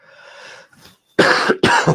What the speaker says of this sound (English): Sorry for the cough there